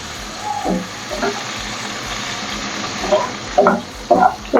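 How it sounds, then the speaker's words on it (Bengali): Raisins frying in a hot pan while making vegetable cheese fried rice, a steady moderate sizzle with a few louder crackling bursts and stirring scrapes toward the end. "এরপর আমি কিশমিশটাও দিয়ে দেবো। এটা একটু জাস্ট ভেজে নেবো।"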